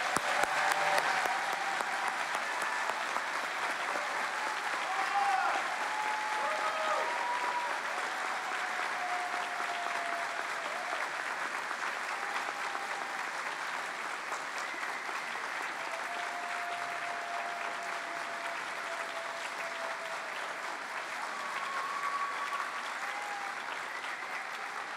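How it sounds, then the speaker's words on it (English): Sustained audience applause fills an awards ceremony hall, a dense, even wash of clapping that holds steady for the full length with only slight swells and no speech over it. "Please join us and give Johnny a rousing round of applause."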